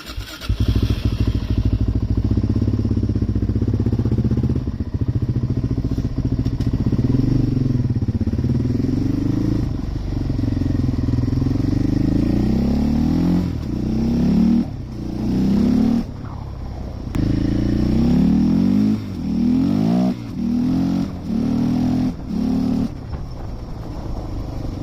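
Suzuki LTZ400 quad engine idling and revving up repeatedly, a loud close rumble with rising and falling throttle bursts and a slight mechanical clatter throughout.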